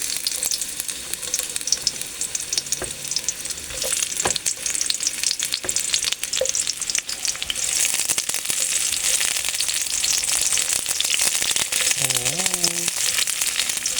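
Onions fry in a pan for a Filipino mussel and chayote soup, making a dense, loud, continuous sizzle close by, with occasional clinks and a brief squeaky scrape near the end.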